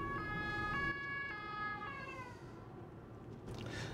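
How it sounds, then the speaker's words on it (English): An ambulance siren wails with steady stepped tones that droop and fade after about two seconds, sounding fairly near over a constant low traffic rumble. "And there's an ambulance coming."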